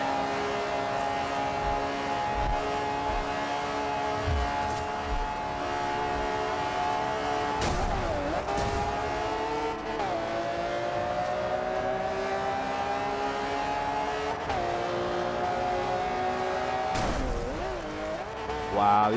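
Cars racing in Forza Horizon, engines droning in sustained rising tones that drop sharply with each gear shift, several shifts across the stretch, with a voice speaking over the engine noise.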